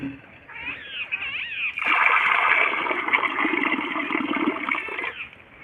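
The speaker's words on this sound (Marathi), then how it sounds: "पाणी घालतो" Water poured out near a spot where many wild birds gather to bathe, a steady splashing pour that starts abruptly and runs for a few seconds before tapering off, preceded by faint bird chirps.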